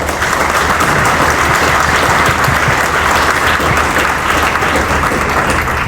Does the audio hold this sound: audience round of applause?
yes